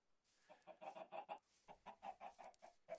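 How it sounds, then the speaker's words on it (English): Chickens in the video game Minecraft clucking in a quick, repeated series of short pulses in two bursts, quiet but clear and with no talk over them. "You can hear those chickens."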